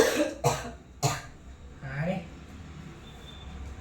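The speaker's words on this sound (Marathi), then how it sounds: "खोकलेलं आहे" Two sharp coughs come close together, followed by a softer throat-clearing sound a moment later, near and fairly clear against a quiet background.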